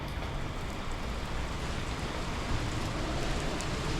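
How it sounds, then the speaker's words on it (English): Heavy rain from a summer rainstorm in Easton pours steadily during an outdoor walk, a dense, even hiss that stays constant throughout with no talk. "I'm just going for a little walk in the rain here."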